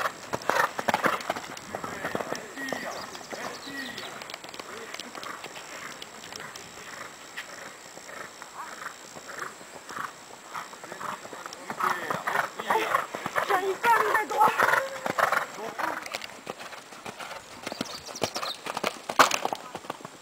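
Horse hooves trotting and clip-clopping through a show-jumping riding lesson, a steady rhythmic beat over arena ambience with an instructor's voice talking across most of the passage.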